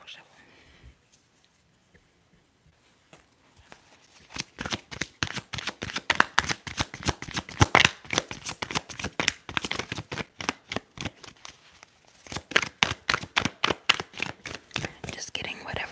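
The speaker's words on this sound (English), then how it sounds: "Alright, let's shuffle." Tarot cards being shuffled in a quiet ASMR setting. After a hushed start, soft rhythmic riffling and slapping runs on continuously, close and crisp, with faint whispering beneath.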